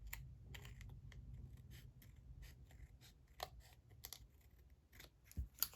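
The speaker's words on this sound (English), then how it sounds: "Just going to trim it down where that fold is." Scissors snip through paper being trimmed for a journal, giving a series of quiet, close crisp cuts in an irregular rhythm with soft handling noise in between.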